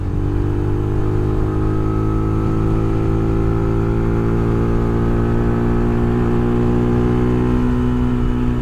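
A Venom 250cc motorcycle engine runs loud and close, holding a steady high idle around 6,000 rpm with a slight rise in revs, droning continuously throughout.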